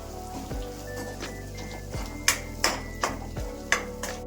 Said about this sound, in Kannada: ಇದನ್ನೆಲ್ಲ ಒಂದ್ಸರಿ ಎಣ್ಣೆಯಲ್ಲಿ ಮಿಕ್ಸ್ ಮಾಡ್ಕೊಳ್ಳೋಣ.